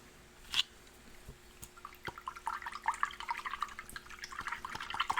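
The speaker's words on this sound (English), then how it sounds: "I'm probably going to rinse my brush out now." A paint brush being rinsed in water, with soft sloshing and swishing that builds to busy, quick splashing and dripping, close and fairly quiet after a single knock near the start.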